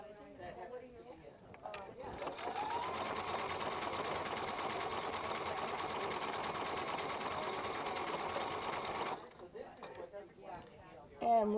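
A Viking Epic 2 sewing machine runs a steady, fast stitch for about seven seconds, its even mechanical whir starting and stopping cleanly, with a person talking briefly before and after.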